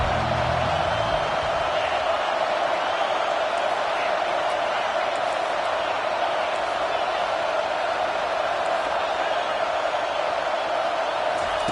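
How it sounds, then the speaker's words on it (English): Stadium crowd in an NCAA football video game roaring behind the defense on a third down, a dense, steady wall of cheering that holds at an even level throughout. "Decibels rising as the crowd gets behind this defense on 3rd down"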